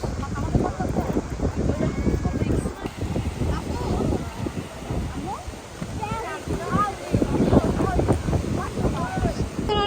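Gusty, cool sea wind at Patenga Beach, Chittagong, buffets the microphone with a constant rumbling roar, while people talk over it.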